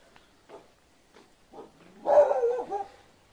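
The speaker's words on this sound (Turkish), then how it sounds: "Her zaman havlayan köpek beni hissetti." A dog barks a few times on a fig farm in Japan: soft, spaced single woofs, then a louder, longer whining bark-yelp near the end, close by with no talk.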